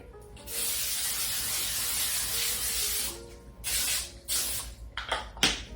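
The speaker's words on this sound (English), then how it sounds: "Spray it again." Coconut oil cooking spray hisses in a long continuous burst over parchment paper on a baking sheet, then comes in several shorter, sharper spurts close up.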